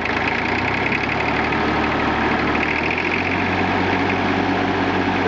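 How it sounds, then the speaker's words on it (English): A Fordson Super Dexta diesel tractor engine roars steadily at full throttle, running a couple hundred RPM slow, loud and close, a continuous rough drone with no pauses. "That's full throttle, and that's a couple hundred RPM slow at full throttle."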